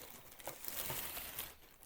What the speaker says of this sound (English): In a scruffy plastic bag. That's what it's in.